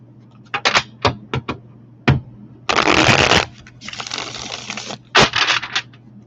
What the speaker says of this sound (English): That's a good shuffle